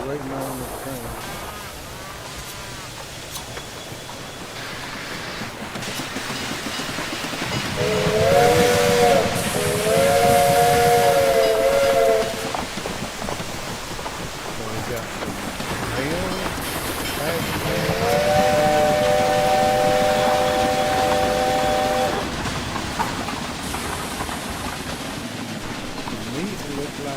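A steam locomotive in the train simulation game Railway Empire 2 chugs and hisses, sounding two long multi-tone whistle blasts. Someone talks over parts of it.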